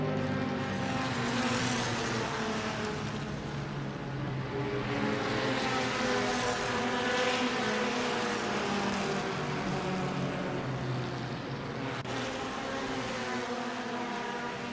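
Multiple GT race car engines in the Assetto Corsa racing game droning and revving together on the Silverstone grid behind the safety car, a dense continuous roar with no voices.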